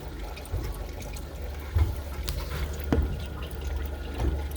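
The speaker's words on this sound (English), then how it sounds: "there's water being pumped in" Water is pumped into aquarium tanks, filling them with a continuous splashing, trickling rush over a low hum, punctuated by a few louder sloshes.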